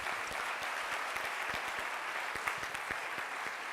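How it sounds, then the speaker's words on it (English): Audience applause for all the speakers at a Civil 20 India 2023 conference session, a steady wash of many hands clapping, moderately distant and continuous with no talk over it. "Once again, a big applause"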